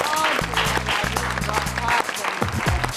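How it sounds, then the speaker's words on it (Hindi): A studio audience applauds at a televised Hindi poetry show, steady clapping heard under strong musical tones and some voices, pausing briefly before resuming. "ये तालियां मैं एक श्रोता की तरह बजा रहा हूँ"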